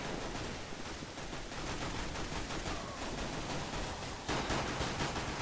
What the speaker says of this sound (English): Automatic kill with an AK, of course